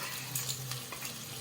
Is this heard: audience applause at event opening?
no